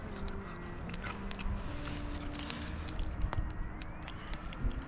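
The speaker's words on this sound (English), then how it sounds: "I don't know if you guys can hear that crunch," Crunchy cooked mountain trout being chewed outdoors on a backpacking trip, close, uneven crackly bites and crunches in a steady chewing rhythm over faint background noise.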